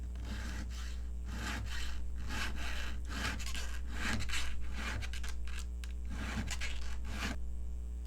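Hand file rasping a chainsaw chain's cutters, a run of rhythmic scraping strokes pushed forward one after another, close and fairly loud over a low steady hum.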